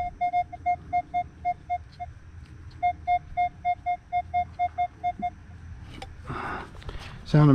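Metal detector sweeping over a playground tot lot, giving a run of short evenly spaced beeping signal tones that pause briefly and then resume, followed by scraping and rustling at the end.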